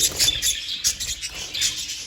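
Small breeding birds in a coop give rapid high-pitched chirps and tweets in short irregular bursts, close by and fairly clear against faint background rustling.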